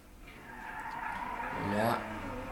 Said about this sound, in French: donc je sors le corbillard du garage